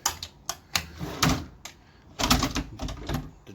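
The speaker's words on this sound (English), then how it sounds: "The drawers are pretty flimsy." A flimsy particle board dresser drawer on a basic track in a hotel room slides and knocks, giving a series of sharp clacks and rattling scrapes in uneven bursts, close by.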